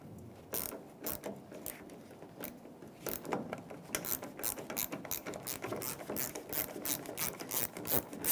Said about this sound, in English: Once they start, you get your 10mm socket or wrench.